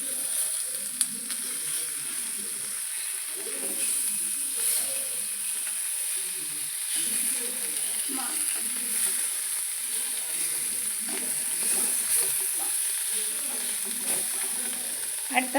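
Spicy sardines fry in a pan with a steady, close, hissing sizzle that carries on throughout, broken by occasional small pops and clinks.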